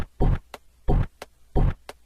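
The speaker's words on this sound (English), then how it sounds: "Let's pitch down the kick and it sounds like this." A pitched-down kick built from the Call of Duty ray gun sound hits three times in a steady beat, each a deep booming thump, with a short sharp tick between them, punchy and loud with no voice.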